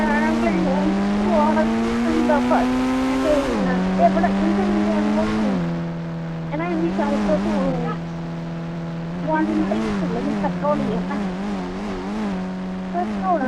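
A Toyota Fortuner Legender in the Indian Bike video game drives with a loud, rising and falling engine whine that shifts pitch with each gear change, heard continuously while someone talks over it.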